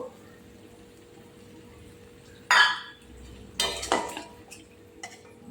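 Ground cumin and spices for a tilapia fish curry stirred in a pan with water, heard as a sharp clatter of a utensil against the pan and then a pair of louder scraping, splashing stirs over a quiet low hum.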